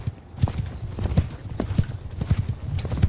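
Cavalry horse hooves clip-clopping in Mount & Blade II: Bannerlord, a dense, steady drumming of many hoofbeats close by, with a faint whinny and a low murmur of battle noise underneath.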